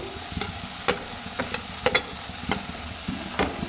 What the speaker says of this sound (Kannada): ನಾನು ಎಲ್ಲ ತರಕಾರಿನೂ ಕೂಡ ಇವಾಗ ಒಟ್ಟಿಗೆ ಹಾಕಿ ನೀಟಾಗಿ ಫ್ರೈ ಮಾಡ್ತಾಯಿದ್ದೀನಿ